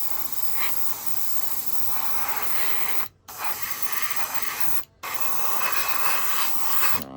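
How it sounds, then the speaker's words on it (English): Red paint sprayed onto a 1972 Chevy Fleetside model truck, a steady close airbrush-style hiss broken by two short pauses, with no talking. "So we're just going to spray it red and go from there."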